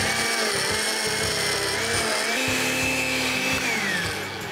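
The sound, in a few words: blender pureeing peeled tomatoes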